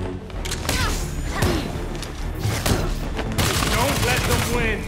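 Bursts of gunfire in the action game Gotham Knights, rapid shots cracking in quick succession at close range, mixed with combat effects and voices speaking over the shooting.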